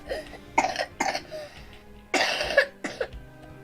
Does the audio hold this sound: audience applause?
no